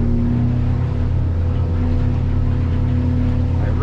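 A Weldcraft 240 Cuddy King boat with twin Yamaha F115 outboards throttling up, a loud, continuous low engine drone with steady humming tones and water rushing beneath, close and constant throughout.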